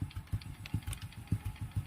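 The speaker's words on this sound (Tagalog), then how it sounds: "Napakatahimik pa ng makina niya oh." A Honda RS 125 motorcycle engine idles quietly, with soft, regular low thumps ticking along in an even rhythm and faint mechanical clatter above them.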